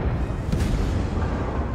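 A dull, heavy boom of naval gunfire from the cruiser Omaha in World of Warships, a single deep blast with a low rumbling tail, loud and close, no talking.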